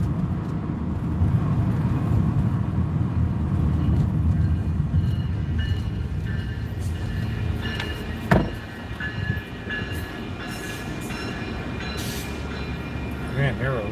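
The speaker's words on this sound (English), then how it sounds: "there were a lot of people on that train" A train rumbles past with broad, steady low-frequency noise during an outdoor livestream, holding at the same level throughout, with a brief sharp knock about two-thirds of the way in and faint voices mixed underneath.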